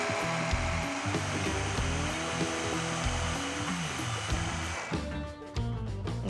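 Blender whirring through a chocolate dessert mixture, a loud continuous motor roar with shifting pitch that cuts off abruptly near the end.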